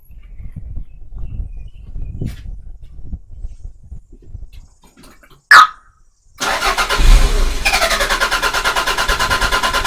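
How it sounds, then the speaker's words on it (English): A Toyota MR2 engine cranks over in a long, steady, rhythmic churn on a start attempt, loud and close, following a quieter stretch of low rumbling and a brief sharp burst. "we had a really good long cranking session there"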